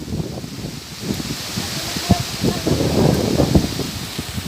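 Gusty typhoon wind roars and buffets the microphone, with rustling and flapping noises rising and falling throughout, in Mogpog, Marinduque.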